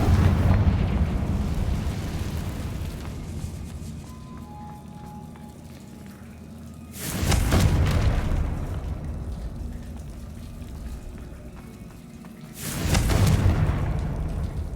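Confringo blasting spell in a Harry Potter video game, two heavy rumbling explosions several seconds apart, each a loud roaring burst that fades over a moment, over a steady low ambient drone.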